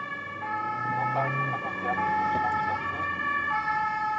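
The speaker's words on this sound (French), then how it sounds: "départ, toutes sirènes hurlantes" A wailing police van siren with steady rising and falling tones, loud and close, over the rumble of the moving van.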